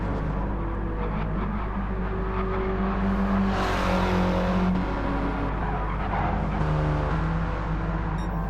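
Race cars howl around a track in Gran Turismo 7, several engines droning and shifting pitch together at a steady, loud level with brief tire squeal, like a close mini race pack.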